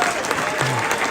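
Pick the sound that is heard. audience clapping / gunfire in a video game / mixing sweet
audience clapping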